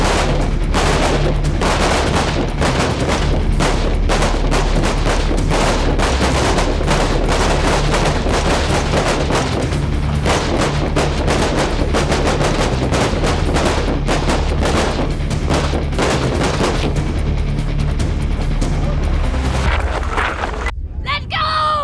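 Repeated rifle shots crack out at a firearms training range, dense and loud throughout with many overlapping reports, wind buffeting the microphone and voices talking underneath.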